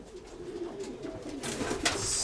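Pigeons coo inside a dovecote, a soft, low cooing in the background under faint room noise, with a brief brighter rustle or flutter near the end.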